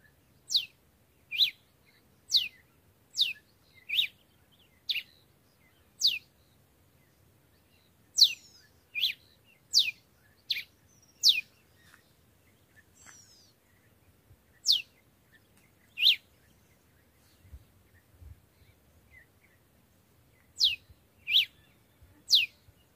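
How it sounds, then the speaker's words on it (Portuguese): A red-cowled cardinal sings out in the bush, repeating short, bright whistled phrases in clustered bursts with brief pauses between, fairly clear against a quiet background. "Ó, o galo cantando."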